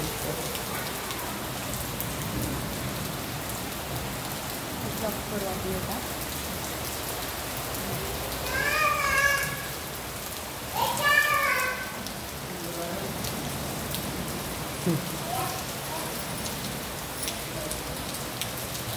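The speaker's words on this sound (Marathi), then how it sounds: "संभाजीनगरला बजाजनगरला पाऊस चालू आहे" Steady rain falls in Bajajnagar, Sambhajinagar, throughout, a dense even hiss, with a few brief clattering bursts partway through.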